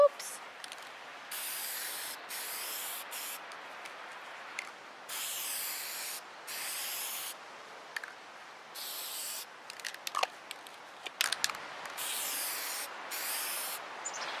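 Repeated hissing sprays, each lasting about a second, separated by brief pauses, with small rustles and clicks in between.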